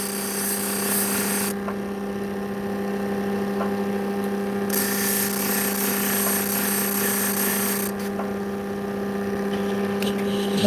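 Lapidary 1000 grit wheel grinding opal, a steady close whirring drone with a constant low hum beneath, the hiss brightening and dulling in sections as the stone is pressed and lifted, no talk.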